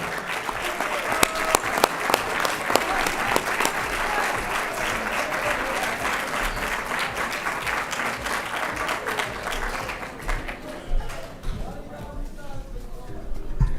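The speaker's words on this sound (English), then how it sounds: "One more round of applause for them." A crowd at a 2024 New Jersey Ballot Bowl kickoff rally claps steadily for most of the stretch, thinning out near the end, while a voice talks over the applause.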